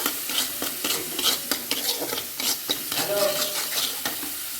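Ground spices (turmeric, cumin, salt) with fried ginger are stirred in a hot pan for potato paratha filling, with a quiet sizzle under repeated scraping strokes of a spatula against the metal in an uneven rhythm.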